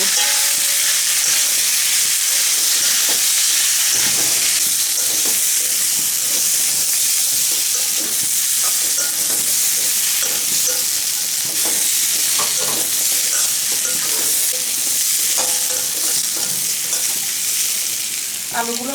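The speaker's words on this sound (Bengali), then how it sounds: "এখন আমি আলুগুলো খুব ভালো করে কষিয়ে নেব।" Potatoes fry with chili powder in a hot pan, giving a loud, constant sizzle and hiss close up, while repeated scraping stirs break through the frying.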